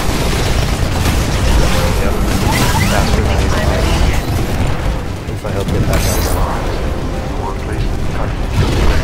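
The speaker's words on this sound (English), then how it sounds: "I got a kill out of my explosion so fast." Dense, loud explosions and mechanical booms from the video game Titanfall, with a Titan match in progress on the Colony map, forming a continuous barrage of blasts and crashes throughout.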